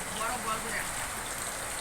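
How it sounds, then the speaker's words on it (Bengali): Steady rain falls on a damaged, broken-down house, a dense even patter filling the space at close range with no pauses. "বৃষ্টির মধ্যে ভাঙ্গা ঘরে আলু ভর্তা, বৃষ্টির আওয়াজও পাইতেছেন।"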